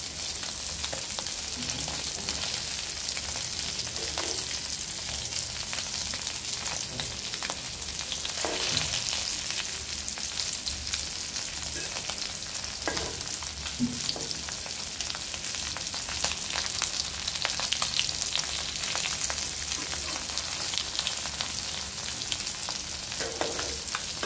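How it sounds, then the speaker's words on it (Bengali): Tengra fish frying in a pan, a loud continuous sizzle and crackle of hot oil running throughout, with occasional soft stirring scrapes and no voices. "মাছটা ভাজছি"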